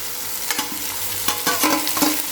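Fenugreek leaves stir-fry on a high flame with a steady sizzle, punctuated by sharp scraping and clinking strokes of a spatula against the pan at an uneven rhythm, close and fairly loud.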